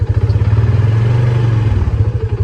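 Polaris RZR 570 side-by-side engine idling and chugging steadily at close range while reversing into a dark shed, with a low, even mechanical rumble and light clatter throughout, no talk.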